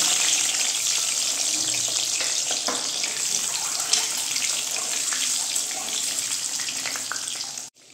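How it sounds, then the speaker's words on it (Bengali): An egg frying lightly in a pan for a Bengali egg korma gives a steady, close hiss and crackle that runs unbroken for the whole stretch, with no talking. "হালকা করে ভাজবো ডিমটা"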